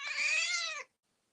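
A pet cat gives one clear, close meow lasting under a second, followed by silence.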